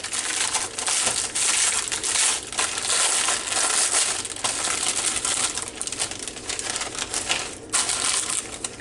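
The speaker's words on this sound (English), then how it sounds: "I have found the easiest way to crush crackers of any kind is put it in a Ziploc bag" Crackers being crushed inside a Ziploc bag, close, steady crunching and crinkling with repeated pressing, continuous throughout.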